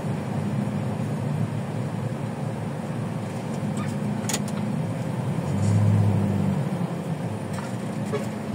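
Road traffic heard from inside a truck around Delpan, Tondo: a steady engine drone with car horns tooting in the distance and a brief louder low rumble partway through.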